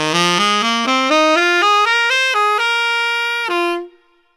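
A saxophone plays a fast jazz lick solo, a rapid rising run of clean, distinct notes ending on a held tone that fades out.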